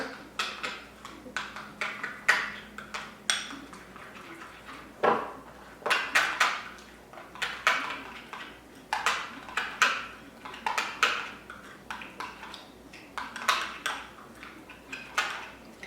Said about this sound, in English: So you're gonna mix it together. So mix the 3 together.